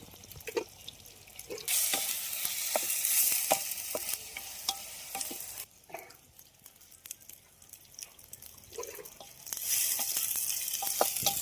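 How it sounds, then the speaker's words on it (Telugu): Hot oil sizzles steadily as ginger garlic paste fries in a pan, with a spoon scraping and stirring now and then, close up. "ఈ విధంగా పచ్చివాసన వరకు ఫ్రై చేసుకున్నాం కదా"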